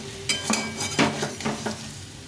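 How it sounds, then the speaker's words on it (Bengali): Cauliflower, potatoes and tomatoes sautéing in a pan for a curry, a soft sizzle under several scraping stirs of a spatula against the pan, close by. "ফুলকপি, আলু, টমেটো ভালো করে কষিয়ে নিয়েছি"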